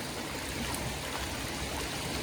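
Steady rushing of a flowing stream, a constant broadband wash of water with no pauses or voices.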